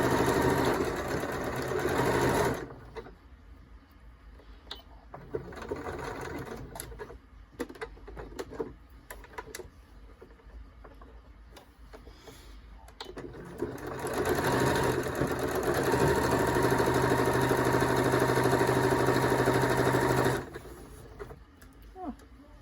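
A sewing machine runs in two long, steady bursts, stitching back and forth over elastic on a fabric face mask, with a quieter stretch of handling between them.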